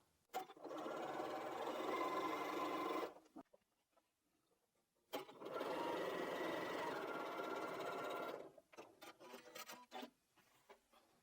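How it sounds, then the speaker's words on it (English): A sewing machine stitches two fabric pieces for a diamond-pattern blanket, running in two steady, loud whirring bursts of a few seconds each, separated by a pause and followed by light handling clicks. "I'm just going over to the machine, I'm going to sew these two"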